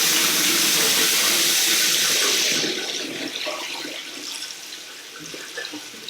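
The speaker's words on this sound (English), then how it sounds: "we are going to wash the phone inside the water tap" A smartphone, a Redmi 3S, is held under a running water tap, loud rushing and splattering water at first, then easing into a softer steady flow.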